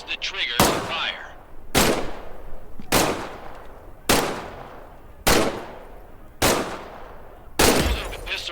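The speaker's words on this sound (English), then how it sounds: "Grab the pistol from its holster on your hip. Squeeze the trigger to fire." Pistol shots in Medal of Honor: Above and Beyond VR, a WWII shooter: seven loud, sharp single cracks at roughly even intervals of just over a second, each with a short decaying echo.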